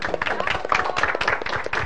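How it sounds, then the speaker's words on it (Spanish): A concert crowd at a music show's anniversary event claps in quick, irregular bursts for the technical crew, a short lively patter of hands lasting under two seconds. "Y un aplauso para el equipo técnico."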